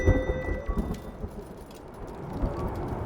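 Thunderstorm on Ganymede in the Return to Grace video game: a dense bed of heavy rain and low rumbling roll steadily, with a louder thunder boom near the start and another swell later, no voices.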